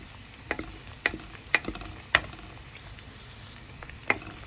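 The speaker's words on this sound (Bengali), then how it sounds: "এখন ডিম আলু পুরিটা তেলের ভিতর দিয়ে দিবে। তেলটা গরম করে নিয়েছে হালকা।" Egg and potato puris frying one after another in lightly heated oil in a home kitchen give a low, steady sizzle with sharp pops and crackles at irregular intervals, fairly close and alone.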